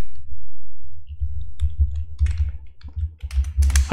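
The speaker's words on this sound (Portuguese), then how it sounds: "se eu começar a digitar aqui" Close, rapid keystrokes on a computer keyboard while typing code, clustered in quick bursts after a brief pause.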